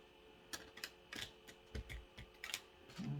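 Quick, light rustling and soft clicks of a small tarot deck being shuffled, a handful of crisp bursts close by with short pauses between.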